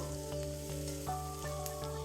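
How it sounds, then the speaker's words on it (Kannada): Onions sauté in a pan with a short burst of soft, steady sizzling and light stirring, while a steady tonal hum runs underneath. "ಈಗ ಈರುಳ್ಳಿ ಬಾಡೋವರೆಗೂ ಸ್ವಲ್ಪ ನಾನು ಇದನ್ನ ಬಾಡಿಸ್ಕೋತಾ ಇದ್ದೀನಿ"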